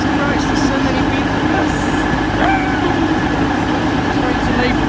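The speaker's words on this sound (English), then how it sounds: "Train to leave within the next minute." Train at the Newark Castle level crossing, a loud, steady rumble of rolling stock filling the whole stretch, with faint higher squeals and bell-like tones over the continuous roar.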